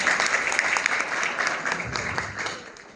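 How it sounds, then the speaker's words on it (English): Sustained applause from a convention audience at a Middle East-Philippines-USA convention and gala, dense clapping filling the room for a few seconds, with a voice briefly audible underneath. "Give them all a big round of applause."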